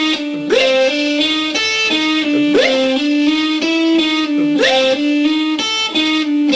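Hybrid-picked electric guitar, effected and slightly distorted, plays a steady repeating pattern that mimics a metronome's tick, with regular plucked attacks over sustained notes, loud and close with no talking.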